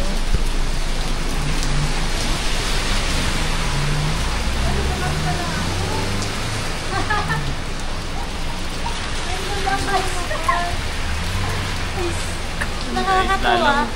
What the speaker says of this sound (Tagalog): maulan sa labas. It's raining.